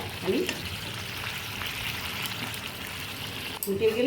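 Egg curry spice mix simmers in water in a pan with a steady, close bubbling sizzle throughout, and a voice briefly speaks near the start and end.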